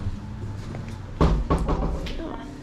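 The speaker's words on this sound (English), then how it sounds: "It's an automatic door." An automatic door at a hotel entrance slides open with a couple of soft mechanical thuds and a rumbling whoosh, close by, with faint background murmur.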